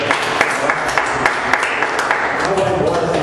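Church congregation applauding, a sustained patter of many hands clapping at moderate loudness, with occasional sharper claps and voices beneath.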